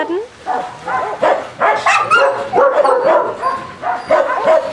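Several dogs barking and yipping in a kennel run, a loud, busy overlapping chorus of barks and whines close by that continues without pause.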